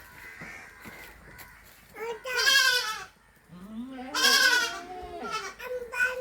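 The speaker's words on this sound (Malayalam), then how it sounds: "ഇതാ സൂപ്പർ ഒരു പാലാടും നല്ല രണ്ട് കുട്ടികളും" A milk goat with two female kids bleats in two loud, drawn-out, wavering calls close by, with quieter rustling and shorter bleats around them.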